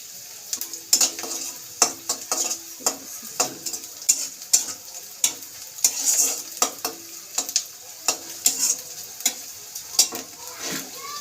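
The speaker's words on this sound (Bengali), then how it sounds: "হালকা করে ভেজে নিব।" Chopped green chilies fry lightly in a pan, giving a soft sizzle under repeated, rhythmic scrapes and clinks of a spatula stirring against the metal, heard close up.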